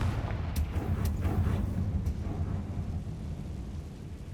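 A Confringo spell blast in the Hogwarts Legacy video game, a deep booming explosion with a few sharp cracks at the start, then a rumbling tail that slowly fades.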